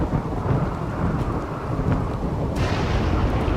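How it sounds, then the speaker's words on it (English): A thunderstorm in the video game RimWorld: a dense, steady wash of rain with low rumbling thunder underneath, loud and continuous throughout, no talking. "Some thunderstorm."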